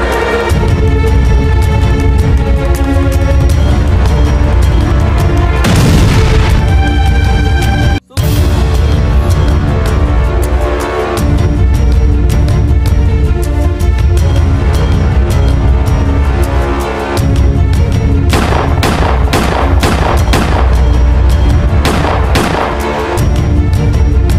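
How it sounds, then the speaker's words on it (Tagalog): In a dramatized retelling of El Filibusterismo, a thrown lamp blows up with a loud boom, and a long, dense stretch of rapid gunfire and blasts follows, heavy and close. "Ilang saglit pa, sumabog ito. Nagsimula ang kaguluhan at putukan."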